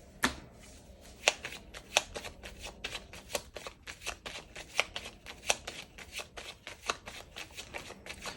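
A deck of 32 cards shuffled by hand up close, a quick run of crisp riffles and slaps in an uneven but steady rhythm over about eight seconds, fairly quiet with no talking.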